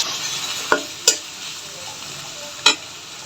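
Chopped eggplant, flat beans and potato are added to spice paste frying in oil for a vegetable roll filling: a steady close sizzle with three sharp clicks of the spoon or pan, and no voices.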